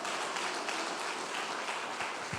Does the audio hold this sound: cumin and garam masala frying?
no